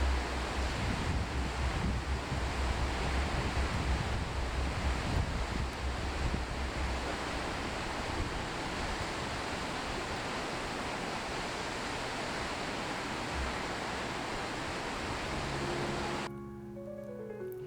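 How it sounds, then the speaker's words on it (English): Thunder Creek Falls on the Haast Pass, New Zealand, pours as a steady, loud rushing roar of falling water, continuous and broadband with no voices, ending abruptly in a different quieter tone near the close. "one comes to Thunder Creek Falls, a magnificent sight, with the water flowing into the Haast River"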